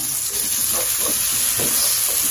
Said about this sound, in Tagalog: Lagay na natin ang bawang.